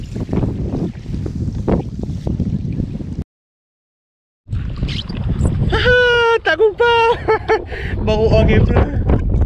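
Strong gusty storm wind roars and buffets the microphone of a kayak out on the water, a heavy broadband rush broken by a brief silent gap, with someone talking over it.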